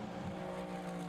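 A GT Cup race car at Silverstone crossing the start-finish line, a steady droning engine note holding at a distance with little change in loudness.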